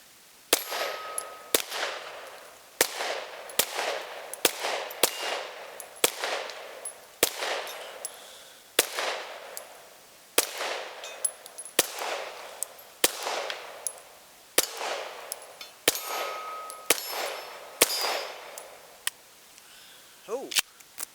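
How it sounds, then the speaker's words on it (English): A Glock 19X pistol firing about twenty sharp, close shots in an uneven rhythm, each crack followed by a short ring, with the gaps between shots otherwise quiet. "Man, this gun really runs."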